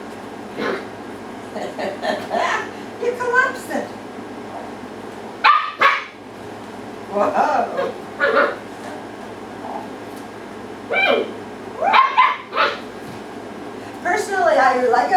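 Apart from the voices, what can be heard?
dog barking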